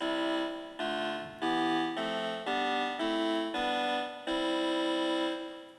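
Bright major-key chords from an Orba 2 synthesizer, about seven held blocks in steady succession, each sustained and evenly loud with no voices.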